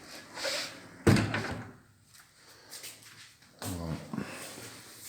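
A small pet door in a home in Luxor, Egypt swings shut with a sharp close knock, followed later by a second rattling flap sound, with a voice speaking in between.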